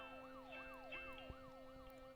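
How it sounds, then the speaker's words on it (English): Wailing sirens rise and fall in quick repeating sweeps over a steady droning tone, sounding somewhat distant and faint. "More time passes, and then I hear sirens."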